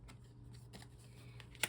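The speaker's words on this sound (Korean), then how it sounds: "마지막으로 조언 카드 뽑고 마무리할게요" Tarot cards are drawn and shuffled softly, a few faint papery flicks and slides ending in one crisp snap, quiet and close with a low hum behind.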